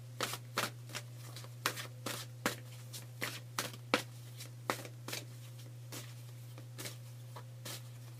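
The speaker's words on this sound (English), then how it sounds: "So I'm going to shuffle, focusing on the reading." Tarot cards are shuffled in sharp, repeated riffling bursts at an uneven pace, close by, over a steady low electrical hum.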